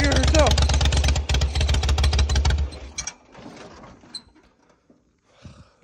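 A riding trail mower hauls a concrete slab of more than 500 pounds up a driveway. Its engine runs loud and close, its pitch climbing early on, then drops away after about three seconds, leaving scattered quieter noises.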